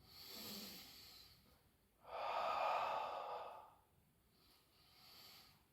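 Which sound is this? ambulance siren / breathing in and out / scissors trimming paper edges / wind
breathing in and out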